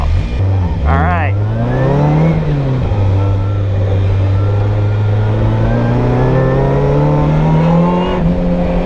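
A drift car revs hard on solo laps at the Lone Star Drift track. The engine note is loud and close, swooping up and down, then holds a sustained high-rpm drone.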